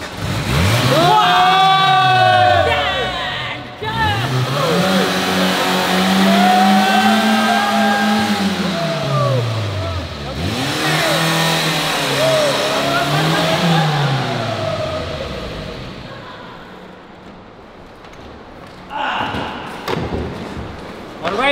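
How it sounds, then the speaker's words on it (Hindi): A car's engine is started after a brake torture test that melted its brakes, then revved up and down in repeated loud, rising and falling sweeps close by, settling toward a quieter idle before a few thumps at the end. "हमारी गाड़ी चल पाती है या फिर नहीं, दोबारा इसे स्टार्ट करके फिर देखते हैं"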